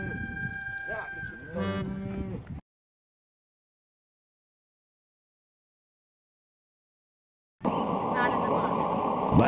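Cattle moo loudly up close at Latigo Ranch in Kremmling, Colorado, a drawn-out low call at the start, then a silent gap, then a stretch of dense rumbling outdoor noise like a running engine.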